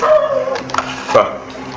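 Dog in the video game Lost in Vivo giving a couple of short yips and whimpering barks, close and fairly loud, mixed with game audio.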